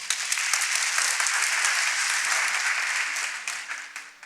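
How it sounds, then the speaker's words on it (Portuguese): A church congregation applauds steadily during an online service, a broad wash of clapping that holds for a few seconds and then thins out at the end. "Pode dar uma salva de palmas?"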